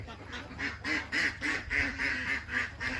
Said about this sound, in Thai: อ่าเป็ดนู่นเดินมาแล้ว เป็ดกระไก่